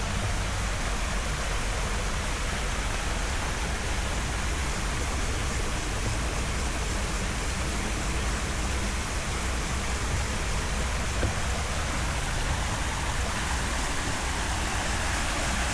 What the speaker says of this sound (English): the way the water flows over the rocks here